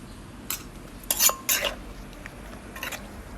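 Utensils clink and scrape in short bursts while fresh shrimp papaya salad with Vietnamese pork sausage and fish sauce is stirred together, a few close sharp strokes separated by quiet pauses.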